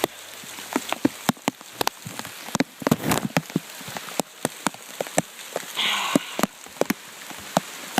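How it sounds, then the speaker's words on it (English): Rain falling outdoors onto surfaces and puddles, with scattered sharp drips and taps in an irregular rhythm over a soft steady patter, fairly close and with no talk. "See, it really is raining."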